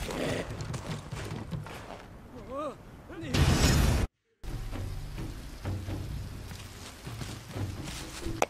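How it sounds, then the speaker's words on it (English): Hollow clip-clopping hooves patter in the game For Honor, broken by a brief whinny, a loud burst and a short dropout, with a voice talking over it. "Look at my horse, my horse is amazing."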